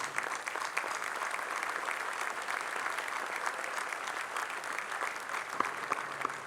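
Steady applause from a crowd at a Navy change of command ceremony aboard the USS Ronald Reagan, dense and continuous with scattered sharper claps throughout.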